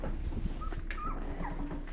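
Golden retriever puppies about two weeks old giving a few soft, short whimpers and squeaks, close by and fairly quiet over a low background rumble.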